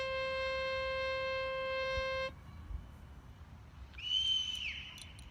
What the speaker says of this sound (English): Not sure what all that whistling is about.